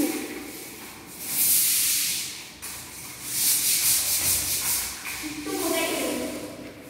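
House walls being scrubbed during a whole-house cleaning, giving rough, hissing brushing strokes that rise and fall in uneven bursts at close range, while people talk.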